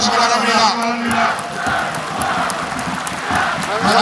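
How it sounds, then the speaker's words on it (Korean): A stadium crowd at an FC Anyang K League football match roars and cheers steadily for the full stretch, a loud, dense wash of voices with shouts rising at moments. "우리 포항 선박 여러분들도 박수 한번 주시기 바랍니다"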